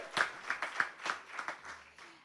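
A small summit audience claps in a light, uneven patter of separate hand claps, fairly faint and thinning out toward the end.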